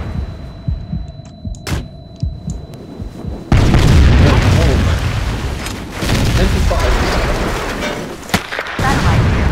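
A nuclear bomb detonates in a Battlefield 2 weapon mod: after a quieter stretch with beeping and thumps, a massive roaring blast erupts suddenly and keeps rumbling loudly with deep throbbing waves for several seconds.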